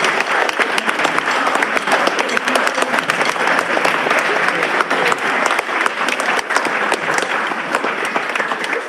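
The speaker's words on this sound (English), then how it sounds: "Students, clap for your grandparents and parents." An audience of parents and grandparents claps at a school band concert, a loud, dense, sustained wash of applause from a full room, continuing steadily without letup.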